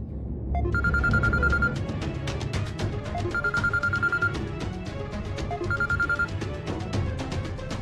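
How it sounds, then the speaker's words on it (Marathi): A telephone rings with an incoming call in a Marathi television drama scene, sounding three repeated trilling bursts over a steady, busy background music score, with no talk. "अक्षा तू कसं काय फोन केलास मला?"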